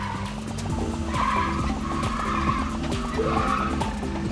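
A video game car drifting through a parking challenge, tires squealing steadily over a revving engine for several seconds, loud and continuous with no talking.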